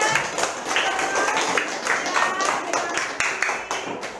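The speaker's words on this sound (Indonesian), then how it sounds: "Beri tepuk tangan untuk kelompok 3." Classroom students clap for a group of classmates, a scattered burst of hand claps with quick uneven slaps close by, while a faint voice talks over them.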